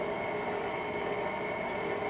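An Artisan stand mixer whirs steadily on its lowest stir setting, a constant even hum with no pauses, alone without talk.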